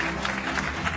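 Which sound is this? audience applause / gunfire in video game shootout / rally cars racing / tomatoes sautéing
audience applause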